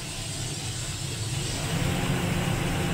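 A combine harvester engine runs steadily, the low rumble swelling slightly as it is throttled up toward full power during grain unloading in a corn field, loud and continuous with no talking.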